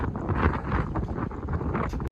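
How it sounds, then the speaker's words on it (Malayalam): Strong wind buffets the microphone in a steady, loud roar with gusty surges on rocks at Anyanpara, close and continuous until an abrupt stop. "അത്രയ്ക്ക് നല്ല രീതിക്ക് കാറ്റ് വീശണുണ്ട്"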